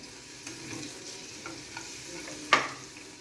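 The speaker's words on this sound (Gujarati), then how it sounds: "હવે લસણ એકદમ સરસ રીતે સંતળાઈ ગયું છે" Garlic sautéing in a pan for a bitter gourd curry, a soft steady sizzle with light stirring scrapes and one sharper clink of a utensil near the end.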